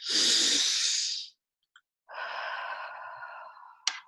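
A person demonstrates a deep breath, a long loud breathy inhale followed after a short pause by a slower, steady exhale ending in a small puff, close and alone with no talk.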